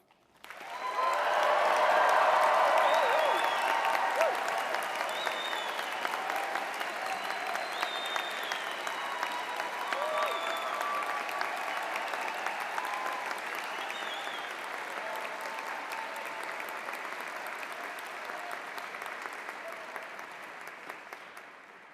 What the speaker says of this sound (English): I want to ask every single person in this room to cheer, to shout, to yell, to clap, make a lot of noise